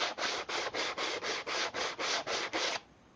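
Hand sandpaper rubbing on a wooden piece for a garage-built table, stand or shelf: about ten quick, even back-and-forth strokes with a steady rhythm, close and fairly loud, with no talking, then stopping abruptly.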